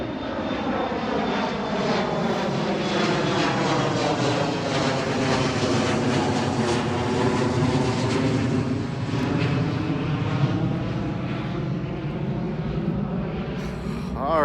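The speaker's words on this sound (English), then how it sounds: "Let me just wait for this airplane to" An airplane passes overhead, a loud, steady engine roar with slowly sweeping tones that swells and fades across the whole stretch, close and dominant with no talk over it.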